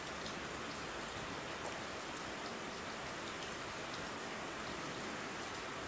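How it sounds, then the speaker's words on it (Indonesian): Steady, dense rainfall patters down continuously, a close, even hiss of drops with no voices or other sounds. "Kamu juga suka dengerin suara hujan kan?"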